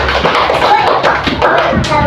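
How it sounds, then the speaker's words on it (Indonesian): A group of schoolchildren clap their hands together in a classroom, the claps quick and irregular, layered into a dense patter with faint voices mixed in throughout. "Tepuk tangan sekali lagi untuk kita semua"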